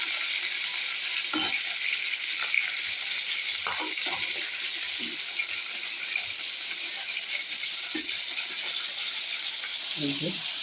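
Large fish pieces frying in hot oil in a home kitchen: steady loud sizzling hiss with occasional soft pops and clatter of a utensil, no talk.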